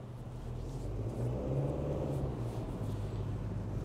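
A car engine drones low and quiet during a driving lesson on a U-turn, a steady rumble that swells slightly as the gas pedal is pressed.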